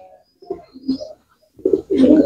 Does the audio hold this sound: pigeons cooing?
yes